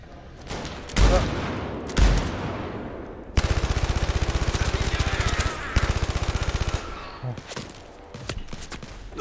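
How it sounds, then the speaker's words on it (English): Gunfire in the video game Blood and Truth: a couple of heavy single shots, then long rapid automatic bursts that rattle loudly and steadily for several seconds before tapering into scattered shots. "Who's still shooting at me?"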